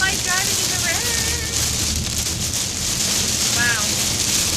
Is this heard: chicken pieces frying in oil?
no